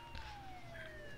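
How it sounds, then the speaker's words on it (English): Ambulance siren in the video game Saints Row: The Third, a faint, steady wailing tone gliding slowly downward under quiet background noise. "That's your ambulance."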